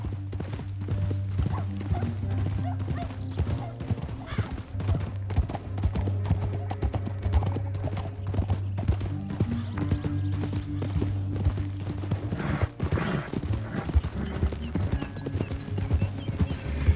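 Horse hooves clip-clopping at a steady run in Red Dead Redemption 2, with a continuous rhythmic beat under a low droning in-game music score and an occasional whinny, and no talk.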